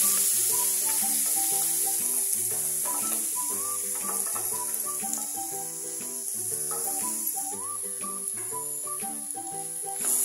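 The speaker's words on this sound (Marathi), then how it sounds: "हा गाजराचा किस आहे तो आपण परतून घेऊ." Grated carrot sautés in a pan over a high flame with a continuous, even hiss and soft scraping. It sits beneath prominent melodic background music throughout.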